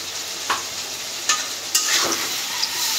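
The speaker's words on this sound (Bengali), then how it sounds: "মশলার সাথে আলুটা কষাই নিব।" Potatoes fry in a pan with turmeric, chili, coriander and cumin powder, a steady close sizzle broken by a few sharp stirring scrapes of a spoon, with no talking.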